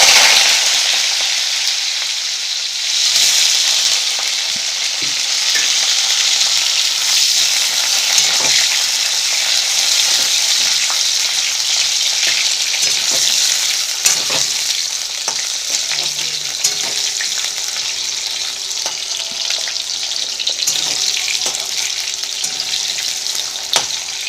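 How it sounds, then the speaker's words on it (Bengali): Potato pieces fry in hot oil with browned white cumin seeds, a loud, continuous dense sizzle with occasional sharp pops and stirring scrapes, heard close and alone. "জিরেগুলো ব্রাউন কালার হতে আমি ওতে টুকরো করে রাখা আলুগুলো দিয়ে দিলাম।"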